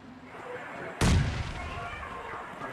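A grenade explodes in the mobile battle royale game PUBG Mobile Lite, one sudden loud boom that rings out over a steady game background.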